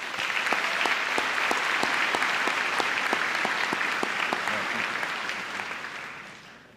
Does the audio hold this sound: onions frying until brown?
no